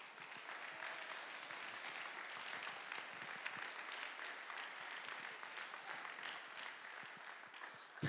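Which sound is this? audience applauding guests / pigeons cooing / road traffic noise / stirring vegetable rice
audience applauding guests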